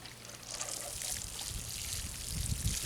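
Water poured over dry garden soil just sown with salvia seeds, a steady faint trickling and splashing stream that grows slightly fuller toward the end, with no talking.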